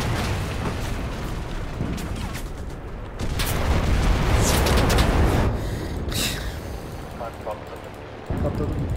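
A loud boom bursts through a busy Enlisted game soundscape, with rumbling blasts and crackling debris over a steady low roar, and a few faint Turkish voices in the background.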